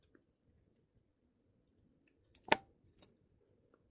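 Scissors snipping thread near the needle end of a loc, a single sharp close snip with a few faint clicks around it in a quiet room.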